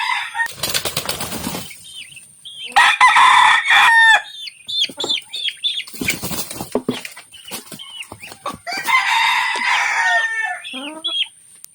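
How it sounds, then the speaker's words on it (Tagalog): Fighting roosters and hens cluck and squawk in agitated bursts, wings flapping loudly between calls, the commotion close by and broken by brief pauses. "Ito yung second manok natin guys."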